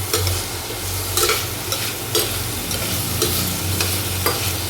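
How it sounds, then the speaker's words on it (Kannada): Green chilies and onions fry in hot oil with a constant dense sizzle. Stirring strokes break through at regular intervals, close and clear, and no voices are heard. "ಐದು ಮೆಣಸಿನಕಾಯಿನ ಅರ್ಧ ಹಚ್ಕೊಂಡಿದ್ದೀನಿ, ಅದನ್ನು ಹಾಕೋತಾ ಇದ್ದೀನಿ ಈರುಳ್ಳಿ ಜೊತೆ"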